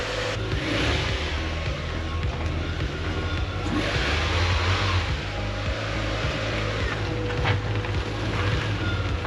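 A car on a test drive after an engine valve cover job, with a constant low engine hum and road and wind rumble filling the cabin, steady and moderately loud with no talk.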